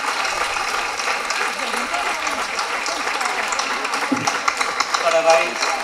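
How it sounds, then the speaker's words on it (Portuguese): Audience at the opening ceremony of a folklore festival in Barcelos applauding a dance and song group, sustained crowd clapping with a voice speaking over it and a few sharper claps near the end. "merece uma grande salva de palmas"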